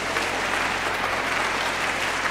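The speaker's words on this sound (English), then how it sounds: "Y'all give Nana a hand clap for me." Audience applause at a 1998 fall gospel concert, a dense, steady roar of many hands clapping together that carries evenly throughout.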